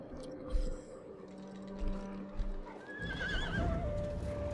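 Horses whinny in shrill, wavering neighs over a busy low background of rumbling and faint clip-clop, sounding like a game soundscape from Total War: Attila.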